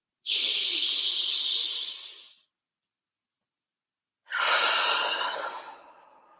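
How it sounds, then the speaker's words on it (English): A person takes two long, deep breaths, each a loud, close, airy rush that swells and then slowly fades, separated by a couple of seconds of silence. "Deep breath."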